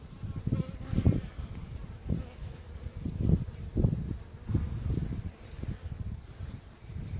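Honey bees buzz around an open hive during an inspection, a low, pulsing drone that swells and fades in uneven bursts close by.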